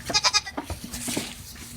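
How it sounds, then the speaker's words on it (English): Goats on a farm bleat in a quick run of three or four close, nasal calls. Softer rustling and murmured sounds follow, recorded up close. "Oh, these goats."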